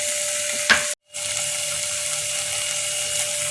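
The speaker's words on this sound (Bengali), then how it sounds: "জল আমি একটু দিয়ে দিলাম।" Hot water hisses and sizzles as it is poured into a cooking pot of raw banana kofta curry, a steady close frying-like fizz broken by one short gap.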